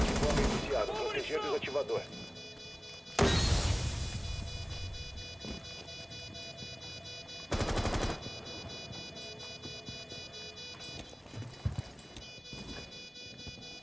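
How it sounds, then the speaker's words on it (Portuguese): Bursts of gunfire crossfire in Rainbow Six Siege, two loud sustained volleys and scattered shots among fainter background firing, with someone talking briefly. "Tem muito tiro cruzado aí, filhão."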